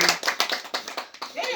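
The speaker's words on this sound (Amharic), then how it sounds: "አጨብጭቡ አጨብጭቡ አጨብጭቡ" A short run of brisk, evenly spaced hand claps at a birthday party, about eight close claps in a row.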